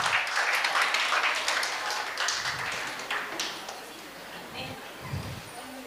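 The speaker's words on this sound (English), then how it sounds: "a big round of cheer and applause to this young girl." An audience at an award ceremony applauds a young performer, a moderate patter of clapping that is densest at the start and thins out over several seconds, with some voices mixed in.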